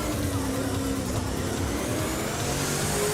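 A Holden race car engine in a video game drones loudly and continuously, a sustained high-revving roar with steady pitch throughout, at the Surfers Paradise circuit.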